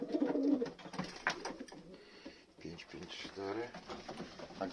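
Breeding pigeons coo softly in short bursts, close by, mixed with rustling and other bird noises.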